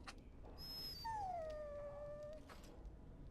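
A dog in the fantasy role-playing game Dragon Age: Origins lets out a long, drawn-out whining howl that slowly falls in pitch, heard alone with no voices over it.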